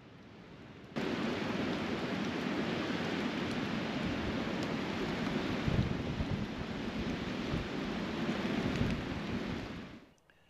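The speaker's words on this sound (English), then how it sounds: "It's been raining pretty good." Heavy, steady rain pours down on a campsite at New Salem with a constant dense hiss, with occasional low rumbles and buffeting gusts, and no voices.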